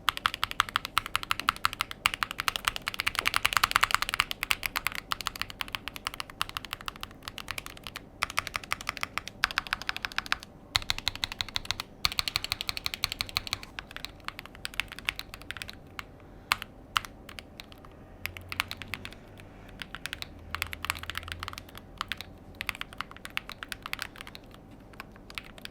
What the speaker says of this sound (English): The keyboard is quiet but not sterile.